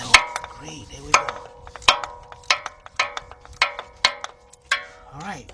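A ratchet on a 4-inch extension loosens the starter bolts on a 1991 Mercury Cougar 3.8, giving a series of sharp metallic clicking pulls at a steady rhythm, close and clear.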